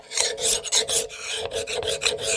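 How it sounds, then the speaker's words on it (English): A coarse double-cut metal file rasping across a hatchet bit in quick, rough strokes, each pass a loud scraping burst with brief gaps between, close up and with no talking. "Worked up a sweat, filing that back down for 5 or 10 minutes."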